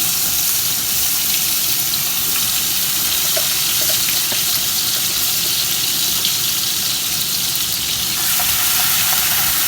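Onion paste and green chilies frying in hot oil, a loud, steady, close sizzle with a constant hiss and faint crackles throughout.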